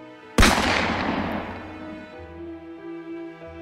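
A single loud gunshot cracks and echoes away into a long ringing tail, a sound effect in an Indonesian audiobook drama, with no voices.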